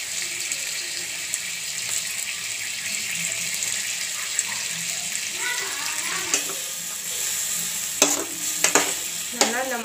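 A spoon stirs ground raw mango with turmeric in a hot pan, a soft sizzle underneath and sharp scraping clinks near the end, close and moderately loud.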